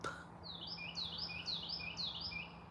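A bird outdoors chirps in a quick series of high, sweeping tweets, repeated steadily over a faint background hum, fairly soft and somewhat distant.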